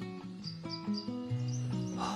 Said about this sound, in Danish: fuglene synger